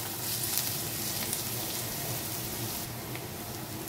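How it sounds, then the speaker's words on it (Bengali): Chopped onion fries lightly in a pan for a pointed gourd (kakrol) dish, giving a steady, close, even sizzle and hiss that carries on without a break and without any talk. "এখন আমি পেঁয়াজটাকে হালকা একটু ভেজে নেব।"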